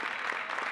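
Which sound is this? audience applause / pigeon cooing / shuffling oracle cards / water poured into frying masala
audience applause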